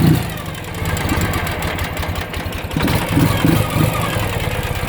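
2009 Ural GearUp 2wd motorcycle engine idling as it warms up, a steady nearby chugging rumble with a slight knock, rising a little in the last couple of seconds.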